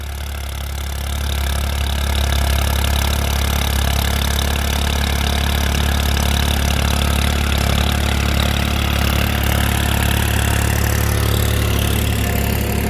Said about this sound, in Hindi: ट्रैक्टर की इसकी कैसी आवाज़ लगी